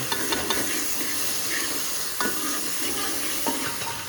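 Chopped tomatoes sizzle and fry in a pan on a home stove while being stirred, a steady close hiss broken by a few soft scraping knocks of the spoon.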